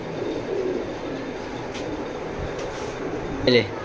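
A racing pigeon gives a brief, soft coo near the end, heard over a steady background hum with no clear talking.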